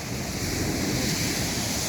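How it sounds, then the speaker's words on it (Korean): Rough surf breaking on Myeongpa Beach in Korea, a steady broadband wash of crashing waves with wind noise against the microphone, continuous and close with no voices. "오늘은 파도가 좀 셉니다"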